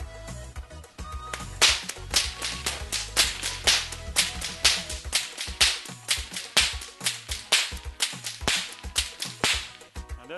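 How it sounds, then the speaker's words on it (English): A double whip cracks repeatedly in a quick, regular rhythm, loud sharp snaps following one another for several seconds, close by with no talking. "And then you will see my son with the double whip there."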